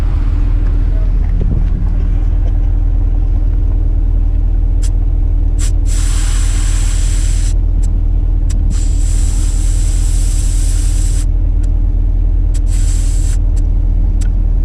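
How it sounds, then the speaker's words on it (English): A 2018 Chevrolet Camaro 1LE with a long first gear accelerates on a drive, a constant low engine roar with recurring bursts of rushing hiss laid over it. "Thing's got a long first gear. Yeah, it's nice because I felt that upshift there."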